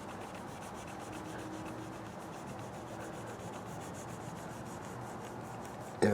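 Steady rubbing of a shop rag over an Epiphone Les Paul Custom reissue guitar body, scrubbing off sticker residue with cleaner in a continuous close scratchy swish, ending with a brief knock.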